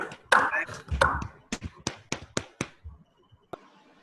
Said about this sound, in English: Please unmute yourselves and clap.